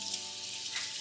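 Panko and coconut-coated shrimp fry in hot oil, a steady, close, dense sizzle that crackles continuously without voices.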